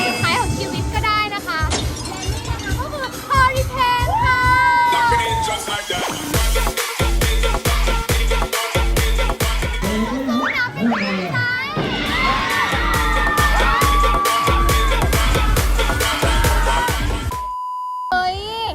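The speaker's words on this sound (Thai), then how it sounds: "นี่อาจจะเป็นเสียงกรีดร้องค่ะ" Crowd screams and shrieks from riders on an amusement park ride at Dream World rise and fall over loud music and clattering, with excited shouting from many riders.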